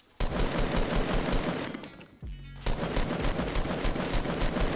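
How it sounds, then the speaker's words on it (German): Rapid in-game gunfire from a Fortnite battle royale match, dense bursts of close automatic shots running almost continuously, with a brief lull and a heavy low thump before the firing resumes. "da wo der Schuss herkam."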